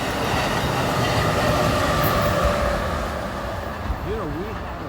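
A Metra commuter train rolls past in Chicago with a steady, loud rumble of wheels on rail and faint squeal, while people talk nearby.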